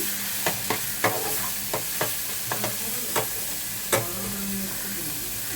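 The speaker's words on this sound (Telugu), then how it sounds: "మరి కొంచెం వేగాలి. మసాలా వేగిపోయింది." Masala fries in a pan for a corn-cob curry, giving a continuous soft hiss and sizzle with a string of light spatula taps and clicks against the pan, up close and without speech.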